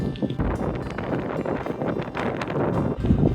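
Steady, blustery headwind buffeting the microphone while bikepacking on a bicycle, a continuous roar with gusty fluctuations throughout and no voices.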